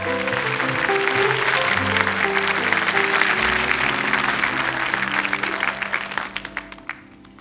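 Studio audience applauding on a 1981 French TV talent show for young fans, a dense, loud wash of clapping over music that thins toward the end into a few scattered last claps.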